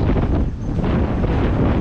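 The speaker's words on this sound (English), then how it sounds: "And of course a gust of wind's gonna come in." Strong gusty wind buffets a microphone outdoors at Epcot during the Flower and Garden Festival, a loud continuous low rumble that fills the whole clip with no talking.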